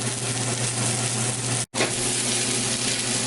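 Ginger, onions and garlic sizzle loudly and continuously as they are stir-fried in a hot pan, with one brief dropout midway before the hiss resumes.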